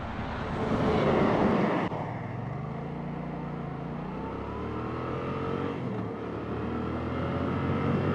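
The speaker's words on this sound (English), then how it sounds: "Big truck." A big truck passes on an open country road, its broad roaring rumble swelling and sliding in pitch as it goes by over steady wind and engine noise from the rider's own vehicle.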